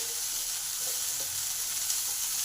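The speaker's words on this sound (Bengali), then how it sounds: "ধনে পাতাটাও ভালো করে মিশিয়ে দিই" Chopped coriander leaves stirred into a vegetarian masala taro curry in a pan, giving a continuous loud sizzle and frying hiss with only faint, soft stirring movement beneath it and no talking.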